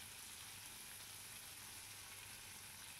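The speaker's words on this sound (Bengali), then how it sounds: "পেঁয়াজটাকে ভেজে নেবো যতক্ষণ পর্যন্ত কাঁচা ভাবটা না যায়" Onions frying in a pan for a Bengali dish of taro leaves with prawns: a steady, close sizzle with continuous fine crackling from start to finish, no talking.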